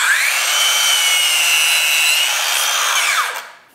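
A Makita DLS600Z mitre saw cuts through a wooden board with a loud, steady high-pitched whine lasting about three seconds, then the blade spins down to a quick fade. No one speaks.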